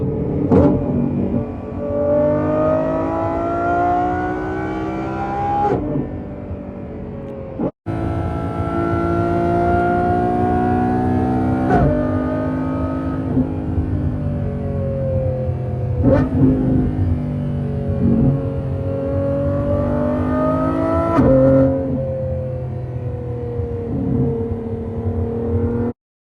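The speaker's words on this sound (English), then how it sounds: "I can put it in manual mode here for a sec. You'll hear it. Hold on. Downshift." Lamborghini Revuelto engine heard from inside the cabin on a freeway, revving in sharp rising and falling sweeps as manual downshifts are made from eighth gear, loud and continuous with brief cuts between blips.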